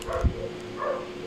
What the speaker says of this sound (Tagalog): ang ingay naman ng mga aso na yun